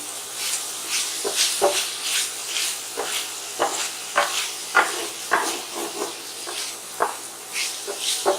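Garlic powder, onion powder and paprika are stirred through a sizzling pan for homemade bacon cheeseburger hamburger helper, with a soft steady fry under repeated scraping stir strokes.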